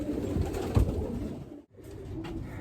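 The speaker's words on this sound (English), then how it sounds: "A gem of a pigeon" A loft pigeon gives soft, low coos close by, a few muffled throaty calls near the start, followed by a brief silence and a quiet rustle of the loft.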